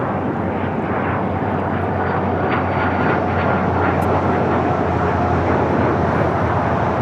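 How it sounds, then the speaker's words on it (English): A Cessna Citation CJ2 Plus business jet taking off from runway 25 right at LAX, a steady, loud engine roar sustained for several seconds at moderate distance, without speech. "This is Air Sprint 510 taking off to Omaha on the Cessna Citation CJ2 Plus."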